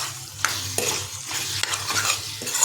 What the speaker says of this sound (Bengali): এখন এটাকে আরও 2 মিনিট ধরে লো ফ্লেমে কষিয়ে নেব